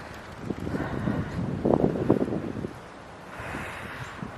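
Cold wind sweeps across an open snowy landscape of bare trees, a steady gusting rush against the microphone that swells in the middle and eases off, with no voices.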